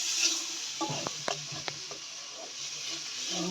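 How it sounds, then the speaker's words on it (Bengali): Spice paste of turmeric and coriander frying in a pan with a little water, a soft steady sizzle with a few sharp stirring clinks and scrapes up close. "মশলাটা ভালো করে কষিয়ে নিব।"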